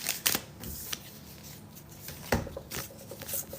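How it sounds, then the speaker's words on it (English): Tarot cards being shuffled in a few quick, papery riffling bursts, close by, with quiet pauses between them and no talking. "Let me shuffle them a little better"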